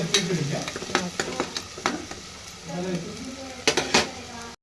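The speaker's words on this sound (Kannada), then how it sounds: "ಈ ನೋಡ್ರಿ ಮಸಾಲೆ ಎಲ್ಲ ಎಣ್ಣೆ ಒಳಗೆ ಕುದೀತ್ರಿ" Masala of raw onion and spices frying in oil in a home kitchen, a steady soft sizzle broken by repeated scraping stirs and metallic clinks of a spoon against the pan, close by.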